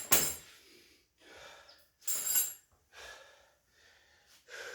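Heavy, gasping breaths after squats: a sharp inhale followed by several rhythmic, panting exhales and inhales, close and fairly loud.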